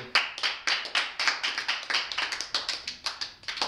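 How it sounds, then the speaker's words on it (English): A small audience gives a round of applause, sparse hand claps in a quick irregular rhythm, close and distinct, with no talking. "Round of applause, Bobby"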